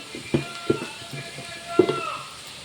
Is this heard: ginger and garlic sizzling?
yes